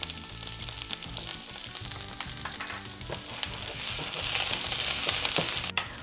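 Quarter of a medium white onion and four whole peeled garlic cloves frying in a pan for tamales de mole, a steady close sizzle with crackling that grows slightly louder toward the end, no talking.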